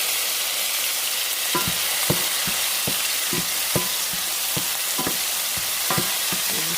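Garlic fries in a hot pan for lo mein made with spaghetti noodles, a continuous close sizzle broken by repeated sharp scrapes and taps of a spatula stirring it.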